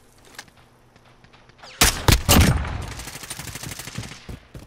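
Rapid bursts of gunfire in a Call of Duty Modern Warfare match, loud and close, starting abruptly after a quieter stretch, then rattling on in dense volleys that trail off into scattered shots.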